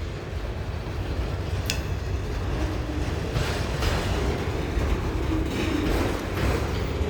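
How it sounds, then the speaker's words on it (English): A long freight train rolls past in Wartrace, Tennessee during a train meet, a steady broad rumble with clattering wheels and a brief high squeal, continuous and fairly close throughout. "That's the second train coming."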